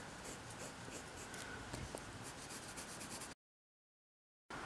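A pen draws a line across paper while a DIY patch design is traced: a close, continuous scratchy rubbing for about three seconds, then it cuts to silence before briefly resuming.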